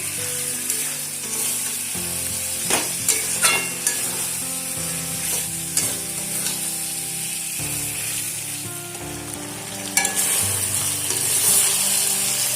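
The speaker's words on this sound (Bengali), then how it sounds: "এবারে চিকেনটাকে খুব ভালোভাবে কষিয়ে নেবো" Chicken fries hard with salt and spices in a pan for coriander chicken, giving a loud, constant sizzle broken by repeated scraping stirs and sharp clatters, with a tonal backing underneath.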